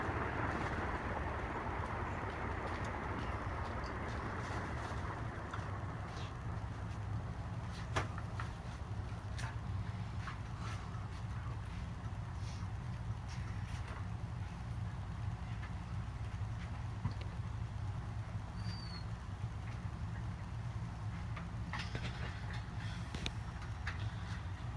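A Palco industrial ceiling fan fitted with 56-inch Compton Greaves blades spins down, giving a steady low whooshing drone with airy wind-like noise that holds evenly throughout, with no talking.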